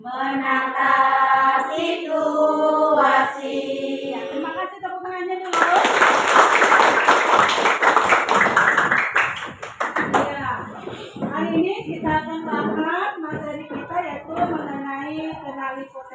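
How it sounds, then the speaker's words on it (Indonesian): An audience clapping in a hall during a talk, a dense burst of hands lasting several seconds between stretches of someone speaking into a microphone. "Terima kasih tepuk tangannya dulu."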